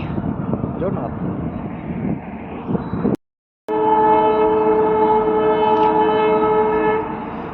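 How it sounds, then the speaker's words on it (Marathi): A loud train rumbles past close by, a steady roar with a sustained horn-like tone after a brief cut in the sound. "रेल्वे बघ चला"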